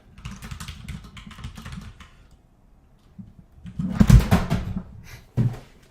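Clattering keystrokes from a loud computer keyboard during a finance lecture, coming in bursts with a pause in the middle, then a heavier flurry and a final sharp clack.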